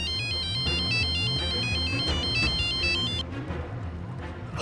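An electronic phone ringtone plays continuously, a repeating melodic pattern that cuts out near the end, leaving a background tone.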